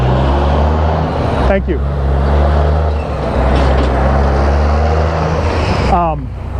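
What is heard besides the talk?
big truck driving by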